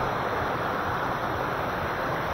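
Steady, dense rushing of a strong, fast-flowing spring current at a resort in the Philippines, continuous and fairly loud throughout with no voices.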